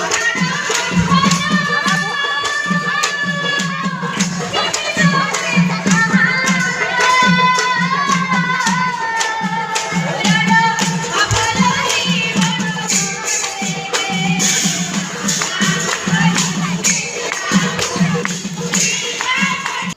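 Devotional nagara nam chanting rises from a group of voices at a satra's foundation day celebration, with rhythmic hand clapping keeping time beneath the sustained, loud, layered singing.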